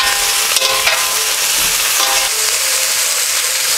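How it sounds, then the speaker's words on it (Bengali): Vegetables for a Bengali niramish labra, including turmeric-soaked banana stem, sizzling and being stirred in a pan, with a steady frying hiss and intermittent scraping strokes, close up and without talk. "সবগুলো সবজিকে একটু ভালো করে কষবো"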